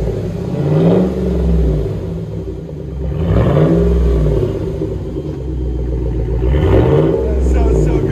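Chevy Trailblazer V8, 5.3L or 6.0L, revved hard to around 4,000 RPM in repeated loud swells that rise and fall several times, with a deep rumbling idle between the pushes.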